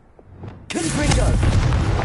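Confringo fire spell explosion in Hogwarts Legacy on PS5, a sudden loud booming blast that erupts after a quiet moment and rumbles on with crackling debris, with a short voice just before it.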